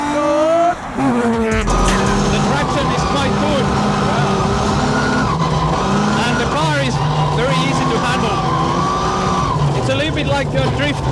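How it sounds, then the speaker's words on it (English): A BMW E36 car engine revving hard and tires skidding as it drifts, loud and continuous with shifting pitch, voices talking over it. "So Jay's having a little go in the E36 now. Absolutely sending it"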